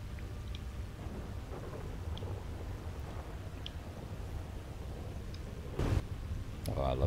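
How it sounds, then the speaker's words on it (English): Thunderstorm in GTA Online, steady rain hiss with a low rumble of thunder throughout and a sharper crack near the end, while people talk over it. "I'm ready for the storm like this in GTA"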